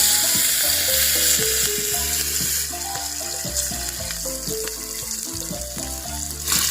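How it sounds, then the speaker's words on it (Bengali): Ghugni, spiced dried peas, hits hot oil in a pan with a loud, close, continuous sizzle and crackle, stirred throughout, while music plays in the background. "তেল গরম হয়ে গেছে, এবার আমরা ঘুগনিগুলো দিয়ে নেব।"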